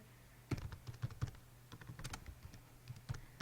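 Rapid, irregular typing on a computer keyboard while writing a profile status on a new account, a close run of light clicks and key taps with short pauses, no voices.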